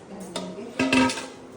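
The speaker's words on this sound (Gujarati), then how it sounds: "ચાલો વાસણ ચડાવી દઈએ" Metal pots and pans clatter and clank in a home kitchen as a vessel is set on the stove for tea, several sharp ringing knocks close by with no talk.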